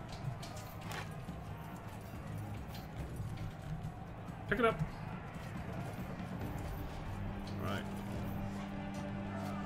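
Horses gallop in a battle in the medieval combat game Bannerlord, rhythmic clip-clop hoofbeats under a steady din, with someone talking over them.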